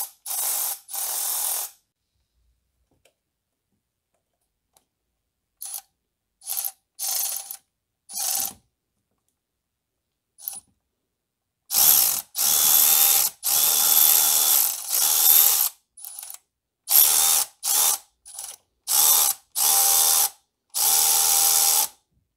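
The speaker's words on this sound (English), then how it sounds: "now let's start drilling" A drill works a stripped valve cover bolt thread on an N42/N46 engine in repeated bursts, short whirring runs stopping and starting with silent gaps, the later bursts longer and louder.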